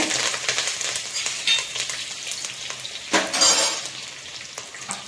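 Four spoons of hot coconut oil crackle with mustard seeds, a pinch of asafoetida and curry leaves, a bright busy sizzle that swells in bursts amid light clinks of a spoon against the pan.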